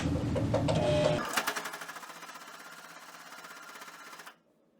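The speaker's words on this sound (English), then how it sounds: "I'm going to sew down, around, and back down until I get back to my original starting point" A sewing machine stitches a zipper pocket into a lining, first running fast and loud, then settling into a steady, slightly slower rapid clatter of stitches for about three seconds before stopping abruptly into quiet.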